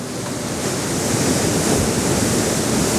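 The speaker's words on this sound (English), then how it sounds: "Now the waves are actually washing over this as we're taking this" Sea waves wash over coastal rocks in a steady, loud broadband rush of surf, close by with slight wind noise on the microphone and no voices.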